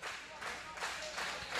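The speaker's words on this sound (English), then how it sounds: "And the crowd's cheering." Wrestling match crowd at an LSC event, cheering and clapping in uneven swells throughout, fairly distant and blended, with a commentator's voice over it.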